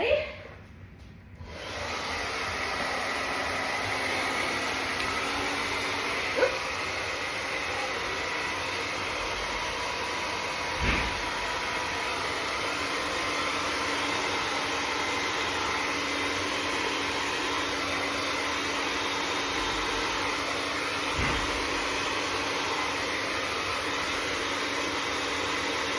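A hair dryer blows across fluid art pour paint, roaring steadily and loudly nearby for the whole stretch after a brief start, with a couple of faint knocks.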